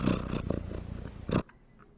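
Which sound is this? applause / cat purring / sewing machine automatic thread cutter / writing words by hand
cat purring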